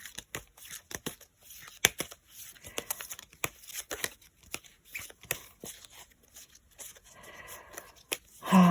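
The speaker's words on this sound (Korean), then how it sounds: "여러분들의 기운을 모아서 셔플 하겠습니다" Tarot cards being shuffled by hand, a run of crisp riffles and soft slides with irregular papery snaps, close and fairly quiet.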